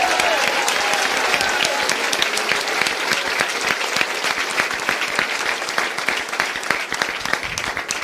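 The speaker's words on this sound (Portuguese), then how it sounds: "Pode aplaudir Jesus" Church congregation applauding steadily and loudly throughout, dense clapping from a large crowd at a Pentecostal service with no break in the sound.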